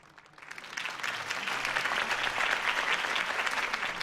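Crowd applause following Harvey Dent's campaign speech in Batman: The Telltale Series, building from quiet into a full, sustained wave of many hands clapping that stays steady and fairly close.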